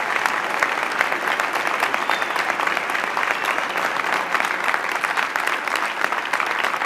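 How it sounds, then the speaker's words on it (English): A commencement audience claps steadily for graduating students at Wentworth Institute of Technology, a dense, even wash of many hands that holds at full strength without a break, with a few faint voices mixed into the crowd. "Let's give them all a big round of applause."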